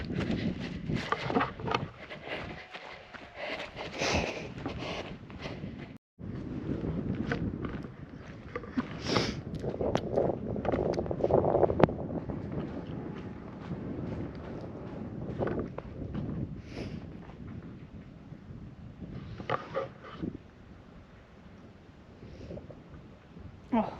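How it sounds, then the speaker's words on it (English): Wind gusts and buffets the microphone on an exposed fell walk near Grasmere toward Tarn Crag in the Central Fells, a rough, uneven rushing that swells and fades, with occasional footsteps and light breathing. "Oh, wind's getting up a bit now."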